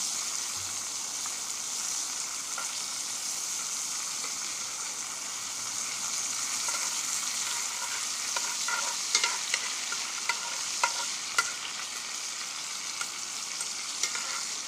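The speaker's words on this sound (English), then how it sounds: "Put the butter in the pan, let it melt." Butter melting in a hot pan on a grill, giving a continuous, even hiss of sizzling with a few small pops and crackles toward the end, close and steady, no speech.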